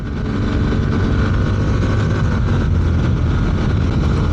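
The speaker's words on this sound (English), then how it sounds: "I've put it into sport now, and as you can see, it's hanging on to the revs a lot more." A Honda X-ADV 750 scooter revving in sport mode, a loud, steady, low engine roar held at high revs, close up with broad wind-like noise and no talk.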